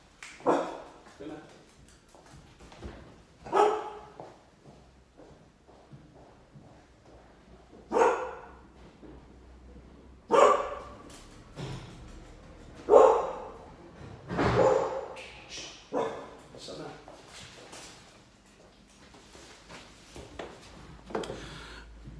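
Dog barking indoors, reacting to noises from upstairs neighbours: a series of sharp barks in irregular bursts over about twenty seconds, moderately close, mixed with someone talking.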